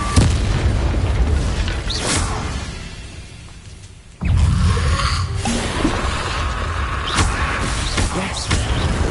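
A fire spell cast in the Hogwarts Legacy video game gives loud booming bursts under game noise, with a short lull mid-clip before a sharp blast resumes the dense, rumbling effects.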